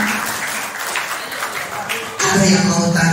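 An audience of women and men at a Ramadan clinic gathering breaks into brisk applause for about two seconds, then the clapping gives way to a tonal sound.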